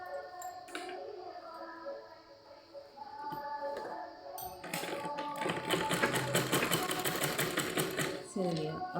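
Someone talks for the first few seconds, then a sewing machine stitches a folded petticoat hem. It runs as a fast, even, close-up rattle for several seconds and stops abruptly near the end.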